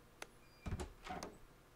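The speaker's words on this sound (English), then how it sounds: "I heard that door." A creaking door in the horror video game Precipice gives a short knock, then two swelling creaks and groans close together, heard alone against a quiet background.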